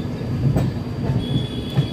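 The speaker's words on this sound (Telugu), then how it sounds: "మన ట్రైన్ అయితే రాజమండ్రి స్టేషన్ నుండి అయితే బయలుదేరిపోయింది" Uday Express double decker train pulling out of Rajahmundry station: a steady low rumble of rolling wagons with rhythmic clunks of wheels over rail joints and a faint high metallic whine, heard from on board.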